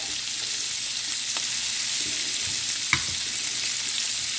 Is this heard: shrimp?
yes